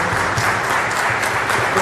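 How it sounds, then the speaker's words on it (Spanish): A church congregation applauds loudly and steadily, dense clapping filling the space without pause, with no voices rising above it. "Denle un fuerte aplauso al Señor por ello."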